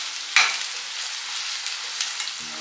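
Onion frying in a pan for a spicy egg curry, a continuous near sizzle with a sharp scrape or stir near the start and a few soft utensil knocks later.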